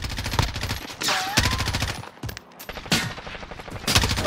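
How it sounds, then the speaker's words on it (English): Rapid automatic gunfire in Call of Duty: Warzone, dense continuous bursts with brief pauses, loud and close, dominating the scene. "there's someone else shooting. They're sniping."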